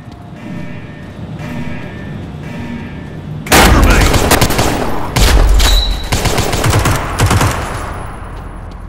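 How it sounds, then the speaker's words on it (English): Sustained machine gun fire in the World War II shooter game World War Heroes, loud dense bursts of gunshots beginning abruptly after a quieter stretch of ambient game sound and continuing with rapid repeated cracks. "Suppressing fire."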